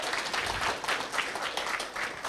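An audience at a plenary talk on collective open science applauds steadily, with dense clapping from many hands filling the hall for a couple of seconds at moderate volume.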